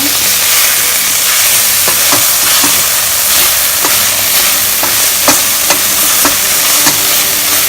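Minced meat keema, cooked until dry with red chili flakes and garam masala, fries loudly in a pan with a continuous close sizzle, punctuated by repeated sharp scraping and tapping of a spatula breaking up lumps.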